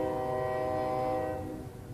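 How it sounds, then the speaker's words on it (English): A train horn sounds loud and steady over the rumble of passing rail cars, the chord fading out toward the end of the short burst. "Do you hear the train?"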